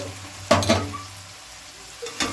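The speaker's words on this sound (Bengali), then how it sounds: "মশলাটা ভাজা ভাজা হয়ে গেছে, আমি এবার আলুটা দিয়ে দেবো এর মধ্যে" Potatoes sizzle and crackle steadily as they fry with spices in a pan, with a couple of sharp stirring clatters near the start and end.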